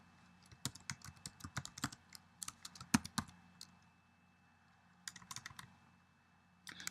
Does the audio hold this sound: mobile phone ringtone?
no